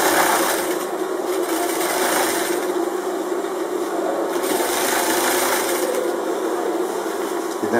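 A sewing machine runs in a steady, continuous whir while stitching a Moroccan kaftan, close and fairly loud with no speech.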